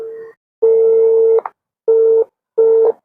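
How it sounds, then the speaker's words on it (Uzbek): Telephone call tone on an unanswered call, a steady electronic beep repeating in separate on-off pulses of uneven length, loud and clear with silence between them. "Quruvchi tashkilotiga telefon qilyapmiz."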